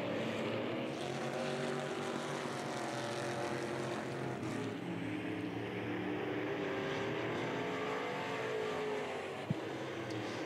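IMCA Sport Mod race cars roar around the dirt oval at RPM Speedway, a continuous loud engine drone that rises and falls as cars pass, heard without commentary.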